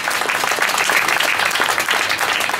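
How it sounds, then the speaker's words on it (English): A room full of people applauds loudly and continuously, a dense, even roar of many hands clapping for the whole short stretch. "Yes, he deserves a round of applause"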